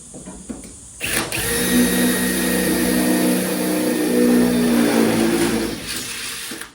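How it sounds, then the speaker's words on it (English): A power drill bores a hole through metal while a jetter unit is mounted on a ute, starting after a short pause and whining at a steady high pitch for several seconds before stopping. "I'll drill this hole first."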